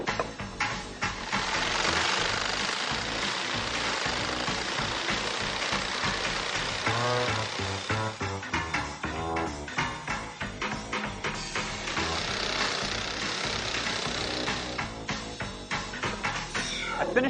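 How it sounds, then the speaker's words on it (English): Saber saw cutting a PVC pipe clamped to a table to make wind turbine blades, a loud continuous buzzing rasp with rapid reciprocating chatter that holds steady, briefly eases, then resumes, with no talking. "I'm actually going to use my saber saw and just clamp it to the table, do half the cut, and then flip it around and do the other half."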